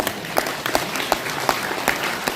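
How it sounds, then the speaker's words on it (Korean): A book-concert audience applauds two honoured guests as they stand, a continuous crowd clapping with a few sharper, louder claps standing out in a loose repeating rhythm. "큰 박수 한번 부탁을 좀 드리겠습니다"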